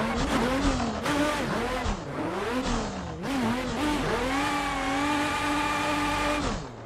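BMW E36 competition drift car in a racing game on the Ebisu West track, its engine revving hard and bouncing off the limiter through a slide, loud and continuous with pitch swinging up and down, settling into a steady high drone near the end.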